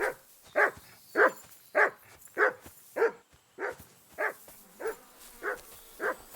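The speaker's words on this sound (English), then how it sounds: "Is that my dog barking?" A dog barks steadily in Kingdom Come: Deliverance 2, about a dozen evenly spaced woofs, moderately close and fading slightly in loudness toward the end.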